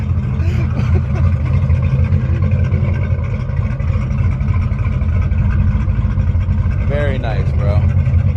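A new Ford Mustang Cobra, a classic model, runs with a steady, low, rumbling idle that continues beneath close-up male conversation.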